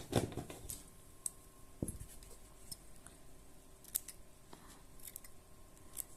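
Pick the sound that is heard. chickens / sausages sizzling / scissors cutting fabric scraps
scissors cutting fabric scraps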